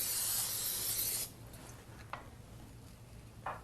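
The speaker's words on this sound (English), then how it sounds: "I like to finish these with a spritz of cooking spray and even more Parmesan before baking them." A single steady spritz of cooking spray hisses over dough for about a second, then gives way to faint rustling and a couple of small clicks.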